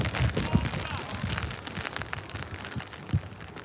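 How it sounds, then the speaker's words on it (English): Heavy rain pours onto a turf lacrosse field at a high school in windy, cold conditions, a dense patter broken by gusts and low thumps of wind against the microphone. "It is raining hard here at Pope John High School."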